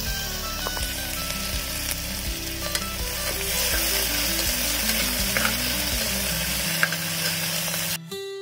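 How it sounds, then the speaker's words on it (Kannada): Chopped onion with a small piece of cinnamon sizzles steadily in hot oil in a pan for a vegetable kurma, with periodic stirring scrapes and a brief clatter near the end; no talking. "ಈರುಳ್ಳಿ ಸ್ವಲ್ಪ ಫ್ರೈ ಆದ್ಮೇಲೆ"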